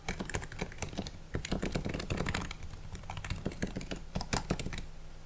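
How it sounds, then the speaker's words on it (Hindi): Keys clatter steadily on an Ant Esports KM1600 gaming keyboard in a quick, uneven stream of close, crisp clicks, with no voices. "इसका टाइपिंग का साउंड है वो मैं आप लोगों को सुना देता हूँ"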